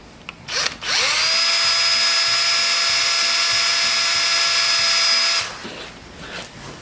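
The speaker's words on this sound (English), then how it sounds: "drill into that freeze plug." A power drill with a small 1/16 bit drills into a metal carburetor freeze plug, whining at a steady high pitch for about four seconds, close and loud, then spins down to quiet.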